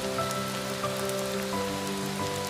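Rain falls onto a surface in a steady, even patter of dense drops, with faint tonal hum beneath it.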